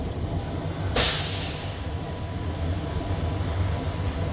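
An electric airport shuttle train running between Terminal 1 and Terminal 2, a steady loud rumble and hum with a sharp burst of hiss near the start, heard from close by.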